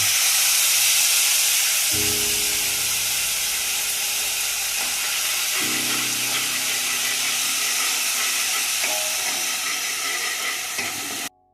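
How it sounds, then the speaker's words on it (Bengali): Mixed spice paste poured into hot oil for a ginger fish curry, a loud steady sizzle and hiss running continuously with brief stirring scrapes, ending abruptly. "এইবারে প্রথমে আমি এই যে মশলাটা গুলে রেখে দিয়েছিলাম, এই গোলা মশলাটা দিয়ে দেবো।"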